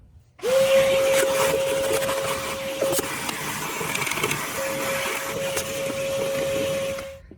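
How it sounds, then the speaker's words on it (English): A vacuum cleaner switches on abruptly and runs at a loud, steady whine with broad airy hiss, sucking dust from the open air filter housing of a 2015 Jeep Cherokee for about seven seconds before cutting off. "Better vacuum it out since I got it open."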